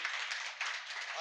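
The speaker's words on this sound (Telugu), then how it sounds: "చప్పట్లు కొట్టండి గట్టిగా" A church congregation at a Telugu sermon claps hands together in a dense, continuous burst of applause that carries on without a break and briefly swells midway.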